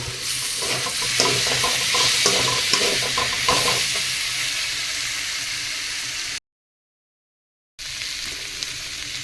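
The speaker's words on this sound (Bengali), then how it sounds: "ভালো করে কষিয়ে নেব সবজিটা দিয়ে দু চার মিনিট সুন্দরভাবে কষিয়ে নেব" Mixed vegetables sizzle and hiss while being stirred and sautéed in a pan for a rohu fish curry, with scraping spoon strokes over constant frying noise and a brief silent gap near the end.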